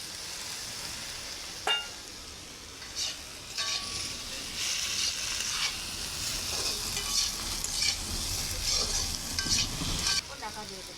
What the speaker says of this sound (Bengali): চিংড়ি মাছটা ঢেলে দেবো